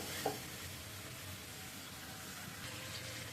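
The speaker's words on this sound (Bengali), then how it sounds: "মাংস ছেড়ে দিয়ে ওই যে দেশি মুরগের মধ্যে একটু ভালো করে কষাবো।" Desi chicken meat sautéing in a pan, a steady, faint sizzle with a soft wet hiss running throughout and one brief clink near the start.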